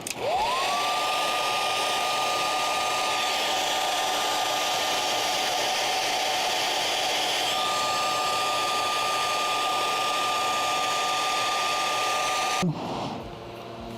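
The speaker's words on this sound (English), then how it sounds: "I am going to hit it with a hairdryer just for a little bit" Hair dryer drying glue on a puppet in a workshop, a loud steady whine and rushing air that runs close and unbroken for about twelve seconds before switching off and spinning down.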